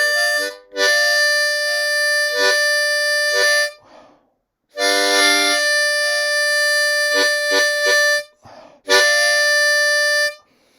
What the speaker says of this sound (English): And as you can see, the hole is on the right and the tongue is on the left.